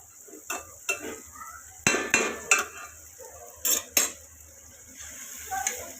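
A metal spoon scrapes and clanks against a pan while spice masala fries for red amaranth greens, giving irregular sharp knocks over a soft sizzle, close by.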